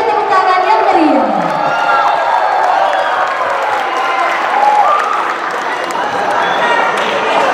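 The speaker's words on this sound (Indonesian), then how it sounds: "Berikan tepuk tangan yang meriah." Lively applause and cheering from a crowd at an evening Indonesian Independence Day thanksgiving celebration at a boarding school, a dense steady wash of clapping with shouts and children's voices mixed in throughout.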